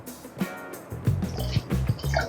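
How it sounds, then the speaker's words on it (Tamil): Water poured into a simmering pot of chicken curry, a short gurgling, splashing pour close by. "இன்னும் கொஞ்சம் தண்ணி ஊற்றிடுவோம்."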